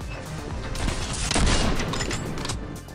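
Slug shotgun snap-fired in the Destiny 2 game amid a chaotic firefight, with booming shots and dense crackling gunfire layered together over about three seconds.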